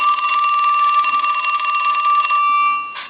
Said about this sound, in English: ring the telephone one more time